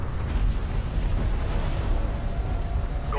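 A turret post blown apart in the real-time strategy game Homeworld: Deserts of Kharak, a loud, sustained roaring explosion with heavy low rumble that stays dense and steady throughout.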